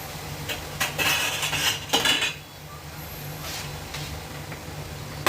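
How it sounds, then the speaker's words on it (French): A small saucepan and metal utensils clatter and clink in a home kitchen during béchamel preparation, with a few sharp knocks and scrapes up close, then quieter handling. "je prends une petite casserole"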